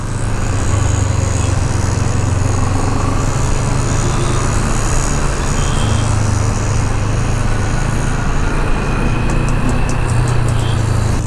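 A CF Moto 650 NK BS6 motorcycle ridden in eco mode gives a steady, loud engine drone mixed with rushing wind, unbroken throughout the ride with no talking.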